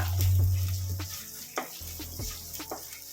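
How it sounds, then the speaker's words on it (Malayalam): Green chilies and curry leaves stirred in a pan for a Kerala-style fish curry, giving a steady sizzle with several sharp scraping strokes of the spoon, close and alone. "അതും കൂടി നമുക്ക് ചേർത്ത് കൊടുക്കാം. നന്നായി ഇളക്കി കൊടുക്കുക."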